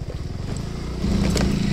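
Suzuki Address scooter pushing along a rough forest trail on the slopes of Gunung Slamet near Purbalingga, its small engine putting out a steady, close buzzing drone that grows louder and busier partway through.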